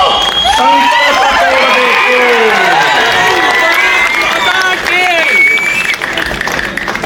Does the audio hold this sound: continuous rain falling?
no